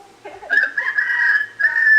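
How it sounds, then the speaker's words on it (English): A chicken in a Filipino family setting calls out close and loud, a drawn-out tonal vocalization rising after a brief softer lead-in, with a second burst near the end. "That chicken looks a little skinny there, Roel."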